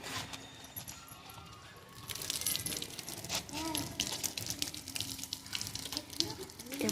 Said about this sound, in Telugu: వాటర్ తీసుకొని శుభ్రంగా మరలా కడగాలి.